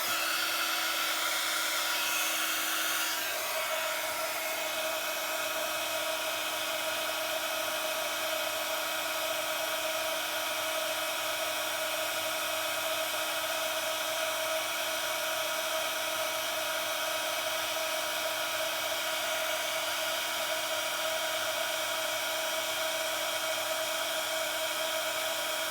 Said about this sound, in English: I'm just going to put my heat tool on so it'll be a little bit noisy